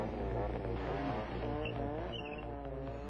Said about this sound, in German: Diese sorgt zudem für einen infernalischen Auspuffsound.